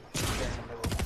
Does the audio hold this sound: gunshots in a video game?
yes